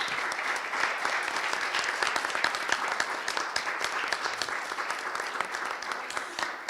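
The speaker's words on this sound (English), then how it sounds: "But we just want to give them a final round of applause." Steady applause from a conference audience fills the hall, dense clapping holding at an even level throughout with no voices standing out.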